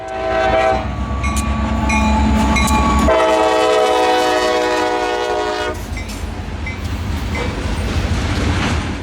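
A CSX freight train led by EMD locomotives on a branch line passes close by, its loud horn blasting in long tones over rumbling wheels and clattering cars as it rolls past.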